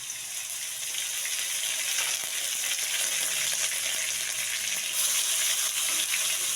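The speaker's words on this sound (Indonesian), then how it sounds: "minyaknya panas, kita masukkan bawang putihnya. Bawang putih halus." Ground garlic paste frying in hot oil for sambal goreng paru kentang, a steady, close, bright sizzle that holds evenly throughout with no talking.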